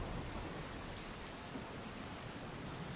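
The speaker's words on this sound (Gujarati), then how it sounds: "ધોધમાર વરસાદી ઝાપટા પડતા ઠેર ઠેર પાણી ભરાયા છે" A heavy rain shower pours down in Vadodara, a steady, dense hiss of falling water that stays even and unbroken throughout, with no voices.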